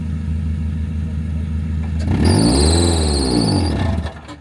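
A lifted Mazda Miata off-roader's engine idles with a low rumble, then revs hard for about two seconds in a loud rising-and-falling surge before dropping away.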